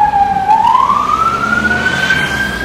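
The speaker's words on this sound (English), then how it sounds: "With the flashing police sirens going through." A police siren wails, sweeping upward in pitch over a loud rumble of street traffic in Brixton, close and steady, with no voices.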